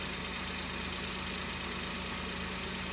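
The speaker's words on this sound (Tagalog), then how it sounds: "Tahimik lang yung makina, walang vibration." Suzuki DA63T multicab engine idles quietly and steadily with a soft, even rhythmic pulse, no revving and no talking, over a faint background hiss.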